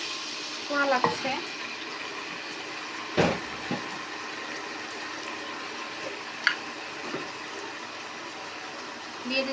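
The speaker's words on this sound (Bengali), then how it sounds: "দিয়ে দিচ্ছি সামান্য পানি, পোড়া লাগছে।" A small amount of water is splashed into a pan of ginger-garlic masala that is starting to burn. Short sizzling, splashing bursts rise over a continuous frying hiss, with brief clatters scattered through the stretch.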